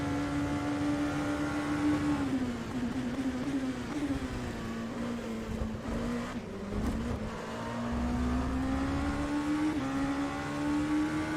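A race car circles the Monza track in the racing game Le Mans Virtual on fresh tires and heavy fuel. The engine drones loudly and steadily with a continuous high whine, dipping and rising in pitch through shifts and corners.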